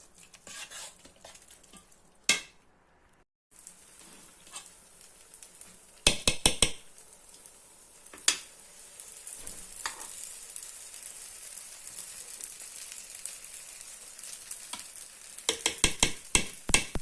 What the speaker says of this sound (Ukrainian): Перемішуємо і підсмажуємо, як звичайний дируний.